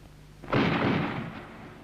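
A single loud gunshot-like boom from a shooting gun with a long fading tail, heard alone in a quiet interior setting.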